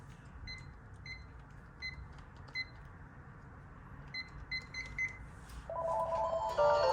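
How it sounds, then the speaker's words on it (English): An old thrift-store telephone dialing a number, short electronic tone blips in quick clusters over a low hum, ending in a brief steady tone. "let me dial a number on this and see what will happen"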